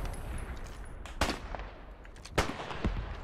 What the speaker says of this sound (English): It's like fucking shots happening everywhere.